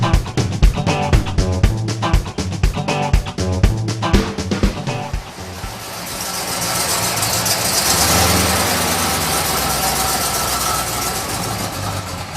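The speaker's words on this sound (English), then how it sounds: "I put a 455 Buick engine in this car" A 1971 Plymouth Roadrunner with a swapped-in Buick 455 engine runs nearby with a loud, rhythmic, lumpy pulse, then shifts to a steady, rushing roar.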